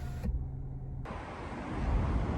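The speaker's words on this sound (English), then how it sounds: "The sunblind will now open all the way to the back of the rear seats" A steady electric motor whir starts, then a brief clunk as it shifts into a louder, broader hum, as a Nissan Qashqai's panoramic roof sunblind motor opens.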